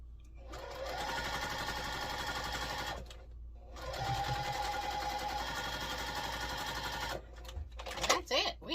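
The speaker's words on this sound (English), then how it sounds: "flip it over, nest our seams, and stitch those together." A sewing machine stitching nested seams of cotton quilt block pieces together, running in two steady sustained bursts with a pause between, ending with handling noises.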